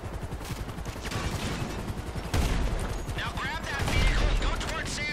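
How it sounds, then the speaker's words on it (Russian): Mk II weapon gunfire during a helicopter fight in the GTA Online Doomsday Heist, rapid overlapping shots and explosions forming a dense, loud, continuous barrage throughout. "два выстрела с МК-2 и вертолета нет уже"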